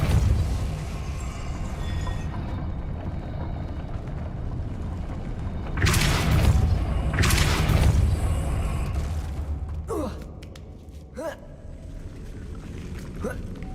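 The Depulso spell in the video game Hogwarts Legacy releases two loud, rushing bursts in quick succession, followed by a few short chirping effects as the sound fades.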